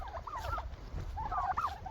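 Turkeys gobbling near a coop on a small farm, two warbling gobble calls separated by a brief pause, moderately close over low background rumble.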